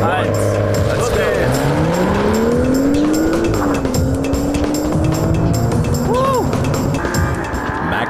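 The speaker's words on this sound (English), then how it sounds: "This is launch control with the first ever BMW 2 Series Coupe." A first-generation BMW 2 Series Coupe launches hard under launch control, its engine note climbing steeply through the gears with a brief tire squeal, loud and close throughout.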